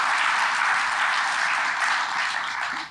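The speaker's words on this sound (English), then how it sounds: "Please give him a round of applause." An audience breaks into a full round of applause, a dense, even clatter of many hands that holds steady for a few seconds before tapering off.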